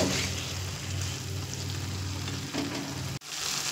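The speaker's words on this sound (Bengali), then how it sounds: "এবার আমি দিয়ে দেব আগে থেকে ভেজে রাখা ঝিঙেগুলো, দিয়ে আবারও 1 মিনিট মতো একটু মিশিয়ে নেব" Fried ridge gourd stirred in hot oil in a pan, a dense continuous sizzle close up with occasional stirring scrapes and a brief knock near the end.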